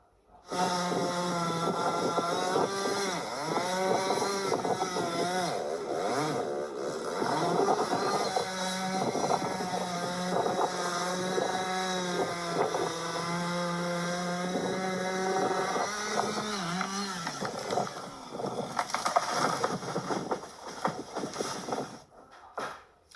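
A chainsaw cuts down a famous landmark tree in Northumberland, its loud, continuous motor droning throughout and climbing and dropping in pitch as it works, with no one talking.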